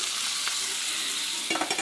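Ground spice paste frying in hot oil makes a close, continuous sizzle, with a burst of stirring clatter toward the end.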